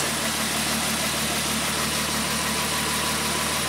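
A Renault 5 Maxi replica's turbocharged engine runs with a steady, loud, continuous drone and constant vibration close to the microphone, holding at a fairly even pitch throughout without any voices.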